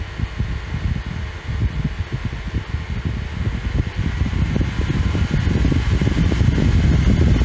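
A Dyson Hot and Cool fan, recently repaired after a circuit board fault, blows with a steady airy whoosh and low rumble that grows slightly louder partway through, close and continuous with no talking.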